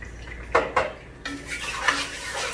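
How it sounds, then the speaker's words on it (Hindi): Ground onion, ginger and garlic masala being stirred and roasted in a pot for dum kabab, with sharp metal spoon clinks and scrapes against the pot over a faint sizzle, close and fairly loud. "और हम इसको बहुत अच्छे से भून लेंगे।"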